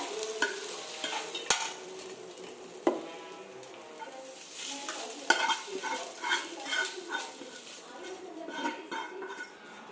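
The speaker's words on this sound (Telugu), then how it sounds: "మొత్తం ఈ పోపు వేసుకొని కలిపేసుకోవడమే" Tempering being stirred into cooled cooked rice for mango pulihora, soft repeated scraping and mixing sounds with a few sharp utensil knocks, near and moderately quiet, with a voice talking over it.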